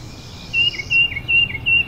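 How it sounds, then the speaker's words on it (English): Perching birds at a nature preserve with feeding stations and nesting boxes give a repeated series of high, clear chirps in an even rhythm, close and prominent over a faint low background. "The perching birds of the preserve have the greatest variety."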